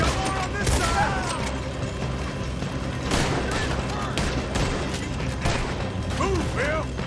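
Gunfire erupts in a Red Dead Redemption 2 shootout, with repeated shots and mechanical clacks running through the whole stretch under shouting voices and ambient game sound.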